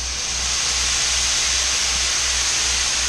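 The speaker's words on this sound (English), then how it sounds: "we're going to add now the bourbon" Bourbon splashed into a hot pan of sautéed mushrooms and onion sets off a loud, steady sizzling hiss that fills the whole moment without letting up, under a low, pulsing hum.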